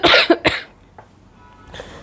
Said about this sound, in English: filming all these videos is making me cough here and there